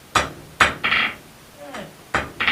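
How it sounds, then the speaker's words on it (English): A blacksmith's hammer rings out in sharp, close metallic strikes on hot steel being forged into a small diamond for a finial, falling in quick pairs with a short pause as the piece is turned between them. "Couple of whacks"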